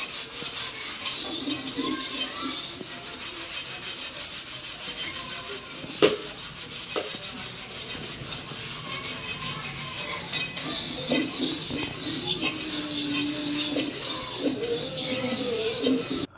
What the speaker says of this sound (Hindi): मैं इधर कढ़ाई साफ़ करने लगी।